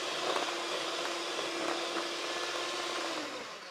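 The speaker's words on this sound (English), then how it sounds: "I'm giving it a good whisk so they combine together." Lemon sponge cake batter being whisked in a bowl, giving a loud, steady whirring drone that runs unbroken for the whole stretch and eases off slightly at the end, with no talking.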